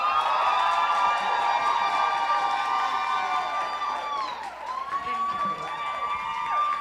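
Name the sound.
audience applause and cheering for speaker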